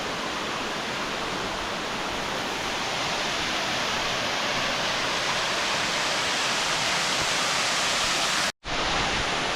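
A waterfall and rushing creek roar nonstop in a hidden gorge at Wheeney Gap near Sydney, a loud, dense wash of water close by with a brief dropout near the end.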